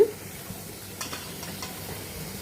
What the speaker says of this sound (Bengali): আমি আজকে টমেটো দিয়ে বড় বড় ট্যাংরা মাছ রান্না করছি